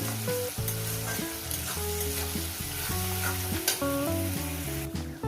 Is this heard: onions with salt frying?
yes